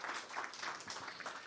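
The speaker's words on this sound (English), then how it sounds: "So let's give yourselves a round of applause." A church congregation at a Sunday service applauding: a brief, fairly faint patter of many hands clapping at an even pace throughout.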